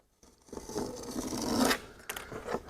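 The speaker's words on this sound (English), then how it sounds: "we're going to cut the excess off once this dries, which should be okay to cut now" A blade slices off excess material on a 2005 Ranger Z20 boat console, close up: a short gap, then a rasping cut of about a second and a half, followed by a second quicker scrape.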